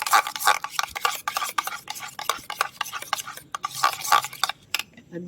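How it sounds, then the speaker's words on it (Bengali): Sour yogurt, about 100 grams, is whisked hard in a bowl for sweet red mishti doi, a quick scraping, clattering rhythm of strokes against the bowl, close and loud, pausing briefly. "এবার দইটা ভালো করে ফেটিয়ে নেব"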